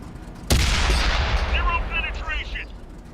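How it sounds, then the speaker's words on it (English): A Super Pershing T26E4 tank in World of Tanks console fires its cannon at an enemy's upper glacis: one sharp, loud boom followed by a rumbling tail and metallic ringing of the shell hit. "So upper glacis shot."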